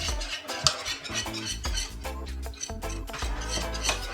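A spoon stirs boiling cornmeal porridge in a pot, with rhythmic metallic scrapes and knocks against the pot close by, uneven strokes continuing throughout with no one speaking.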